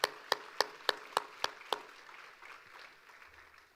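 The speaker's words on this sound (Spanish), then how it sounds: "Un aplauso para el Señor esta mañana." A church congregation claps at a morning service: a run of seven sharp, evenly spaced claps in a steady rhythm, then a softer trailing patter that fades into quiet room tone.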